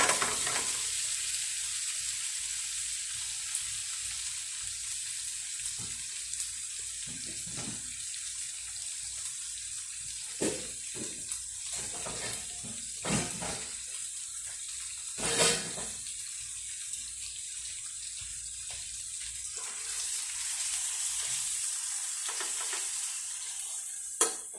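Corned beef frying in a pan, a steady bright sizzle running throughout with occasional stirring scrapes and clinks, close and continuous.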